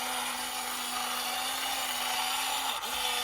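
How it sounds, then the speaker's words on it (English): The small electric motor of a Remco Bulldog toy tank, recently unfrozen and lubricated, drives it forward with a steady, close, buzzing whine. The whine dips briefly near the end before it resumes. "So now the tank runs forward"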